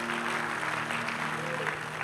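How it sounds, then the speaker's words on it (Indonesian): A church congregation applauds during a worship service, a dense, steady wash of clapping under a low sustained hum, moderately loud throughout the short stretch. "Dahsyat, tepuk tangan buat Tuhan Yesus."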